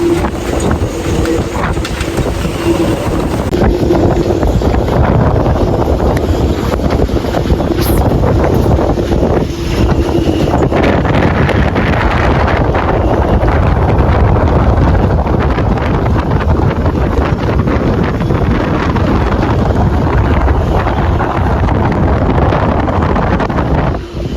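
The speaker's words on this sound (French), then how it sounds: "le vent ne baisse pas quoi. Il est en permanence je pense à 35 nœuds et les rafales montent à plus de 50 nœuds" Strong gale at a marina in Liguria, steady wind around 35 knots with gusts over 50 knots, roaring continuously as buffeting wind noise on the microphone, with the rumble of moored boats and water throughout.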